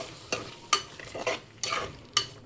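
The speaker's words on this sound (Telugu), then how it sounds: "పెరుగు వేసుకుని ఇది కూడా కలిపేసుకుందాం." A spoon stirs yogurt into prawn pulao masala in a pan, giving five or six distinct scraping strokes in an uneven rhythm over a faint simmer, close and fairly quiet.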